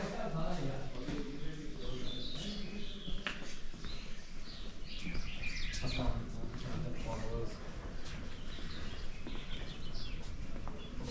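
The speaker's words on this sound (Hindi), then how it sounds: "परिंदों के चहचहाने की आवाज़ें आ रही हैं" Birds chirp in the morning at Khanpur Dam, with scattered small calls over a constant broadband outdoor wash and a murmur of background voices.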